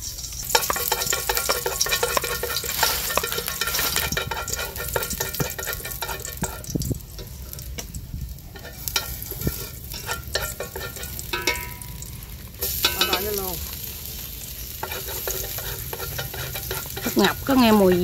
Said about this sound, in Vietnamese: Chế dầu rồi. Rồi cho tỏi với hành vào đi